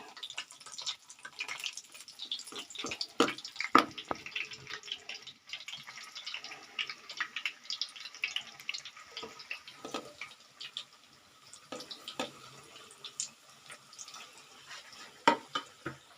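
Chicken nuggets fry in hot oil with a continuous crackling, spattering sizzle full of irregular pops and bubbling, fairly faint and steady throughout.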